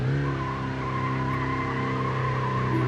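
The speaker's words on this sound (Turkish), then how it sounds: "Deli gibi pati atıyor ama gitme desen yok." Wheels of a tow truck spin hard while it hauls a line of commercial cars, producing a steady, loud, unbroken whine with a low droning tone that holds for the full three seconds.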